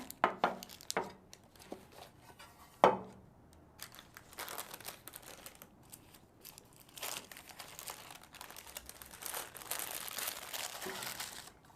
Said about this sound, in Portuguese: Vamos virar ele nessa bandeja para poder tirar o papel manteiga